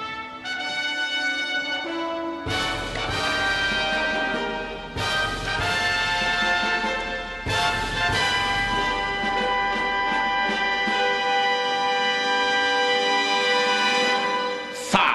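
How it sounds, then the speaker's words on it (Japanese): A brass fanfare plays loud and alone at a keirin bicycle race before the start of a motor-sport versus cycling showdown, with several bursts and sustained phrases over about fifteen seconds. "競輪ではおなじみのファンファーレが鳴りまして、時計が回ります。"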